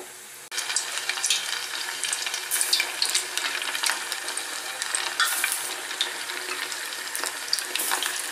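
Chicken pieces go into hot oil in a deep pan for a first fry, and a loud, crackling sizzle bursts up at once and continues, with occasional sharper pops and spits.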